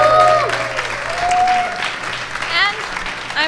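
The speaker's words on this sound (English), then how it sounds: "another applause" Applause at a business show event, clapping that swells and fades in bursts, mixed with whistling tones and some background voices, fairly close and loud.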